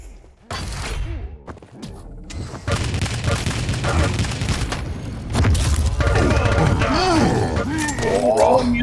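Rapid lightning gun fire in a fast Quake duel, a dense continuous crackling stream with booms and hits layered over loud game noise, with commentators talking throughout.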